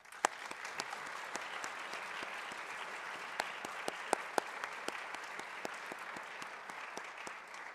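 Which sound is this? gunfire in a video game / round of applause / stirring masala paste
round of applause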